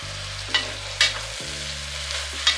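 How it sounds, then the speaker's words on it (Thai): Beef for Thai kaprao is stir-fried in a pan, a steady close sizzle with a few sharp scraping stirs of the spatula and a low hum underneath, no voices. "ดี๋ยวเราจะผัดต่ออีกรอบหนึ่งนะครับ"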